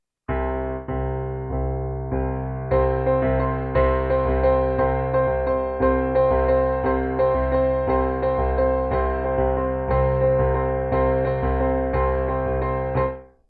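A piano plays an exercise with left-hand C octaves against right-hand triplets, three notes over every two bass hits, in a steady, even rhythm for about thirteen seconds, close and clear with no talking.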